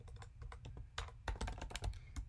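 Quick bursts of typing on a computer keyboard as a domain name is entered, with crisp close key clicks in an uneven rapid rhythm and brief pauses between runs.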